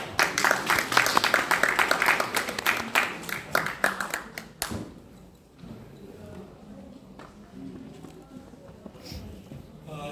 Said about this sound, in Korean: 정민웅 교수님 나오실 때에 힘찬 박수로 환영하겠습니다